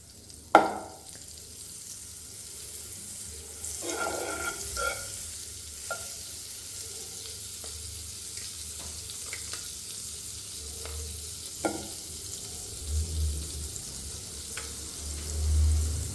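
Butter and garlic fry in a hot pan for a paneer sandwich, giving a faint continuous sizzle broken by scattered stirring scrapes and soft clatters, with a few louder knocks near the start and a low hum beneath.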